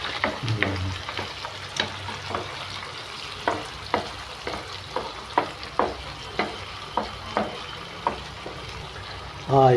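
Green chillies and tomatoes frying in a pan for tomato upma, with a steady sizzle under regular scraping stir strokes roughly every half second, close and moderately loud.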